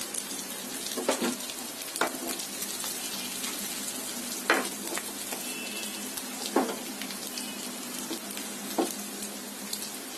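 Chicken mince with green peppers sizzling in a pan while being stirred, a steady fry broken by several distinct scraping strokes of the spoon.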